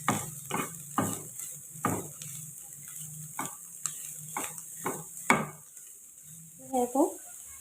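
Crushed cabbage, capsicum and carrot being stirred in a pan, a run of distinct spoon scrapes and clacks at an irregular rhythm over a faint background hiss, close by with no speech.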